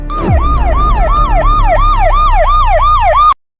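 A loud alarm siren for a national-level alert wails in rapid, regular rising-and-falling sweeps, close and piercing, then cuts off abruptly.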